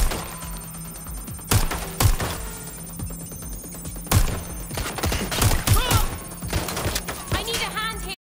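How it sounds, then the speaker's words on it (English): Scattered gunshots in Watch Dogs: Legion, a few sharp isolated cracks spread across a tense game soundscape with a steady hum and voices talking in between. "Shots fired!"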